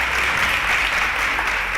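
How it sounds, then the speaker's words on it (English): An audience at a televised quiz show breaks into steady, dense applause, loud and close, with no talk over it. "A round of applause for Dan Kazim."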